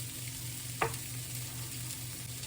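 Swedish meatballs brown in a frying pan with a steady, quiet sizzle, plus one brief clatter as they are turned.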